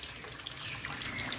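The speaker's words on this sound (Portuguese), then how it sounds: "Pode jogar água sem medo. Deixa a água bater bem mesmo" Running water rinses a flood-damaged computer motherboard, a steady rushing splash from a tap or hose, close and continuous, with no voices.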